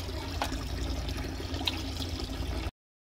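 Water flows steadily from a tap while goat trotters for paya are rinsed, a continuous close trickling rush with a few small splashes that stops abruptly near the end.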